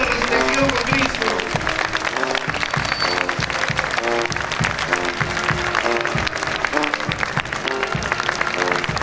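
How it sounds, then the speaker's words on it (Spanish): A church congregation claps hard and steadily during an Easter resurrection celebration at Templo El Calvario, with dense continuous applause mixed with music and voices. "¡Vamos, aplausos fuertes!"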